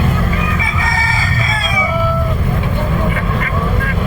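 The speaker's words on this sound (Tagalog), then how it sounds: "So, napakadaming manok dito ngayon, no?" Roosters crow repeatedly over a busy backdrop of clucking native chickens and a steady crowd murmur at a market in Bulacan, Philippines, loud and close throughout.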